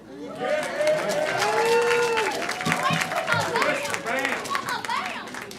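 People clap at a Purim celebration, a lively burst of applause mixed with cheering, chatter and children's voices, speech clearly present throughout.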